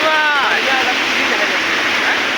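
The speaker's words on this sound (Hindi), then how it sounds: "उधर में वाटरफॉल है।" Sukhal Dare waterfall in Garhwa rushes as a loud, steady roar of falling water, with someone talking over it.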